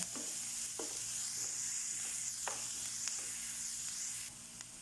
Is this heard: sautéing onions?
yes